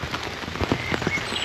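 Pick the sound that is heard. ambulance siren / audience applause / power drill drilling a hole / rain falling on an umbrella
rain falling on an umbrella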